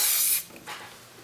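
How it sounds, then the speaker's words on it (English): A can of gold spray paint lets out a loud, close hiss for one short burst, followed by a fainter, brief second puff as it tails off. "it's a spray that you're supposed to use outside"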